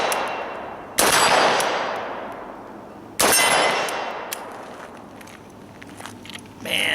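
Two loud AK-74 rifle shots at steel targets, spaced about two seconds apart, each with a sharp crack and a long outdoor echo decaying behind it, followed by a faint clank near the end.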